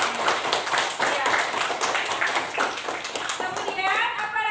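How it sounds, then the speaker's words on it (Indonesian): Children clap hands in a classroom, a burst of quick, irregular claps running throughout at close range, mixed with kids' voices and chatter. "Kasih tepuk tangan sama ayahnya."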